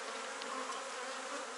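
Honeybees swarm over a hive frame during colony splitting, a dense continuous buzz of many insects close by, steady and unbroken.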